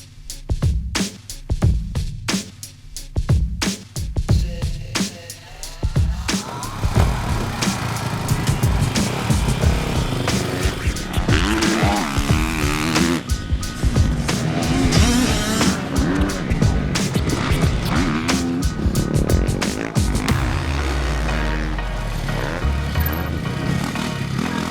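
A Honda CRF450R motocross race bike laps a track, its engine revving and dropping through gears, passing near and then fading, loud and continuous throughout.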